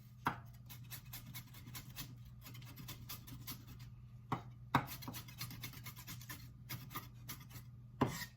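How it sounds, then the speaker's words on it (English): A knife finely chops an onion on a board in quick, steady, fairly quiet taps, with a few louder knocks standing out along the way and no speech. "So we'll go ahead and finely chop this onion."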